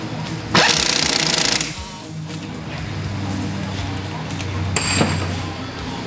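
A rattling burst of a power impact tool tightens the two 17mm nuts on a 1998 Toyota Corolla rear strut assembly, one long run then a short second hit, with clinks of the socket and faint talk between.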